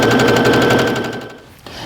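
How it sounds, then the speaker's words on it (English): Domestic sewing machine stitching quilt fabric strips in a fast, steady whir of needle strokes, loud and close, slowing and stopping near the end before a brief restart. "I put a finger down at the edge of my sewing machine throat, and then I just let the feed dogs pull it up"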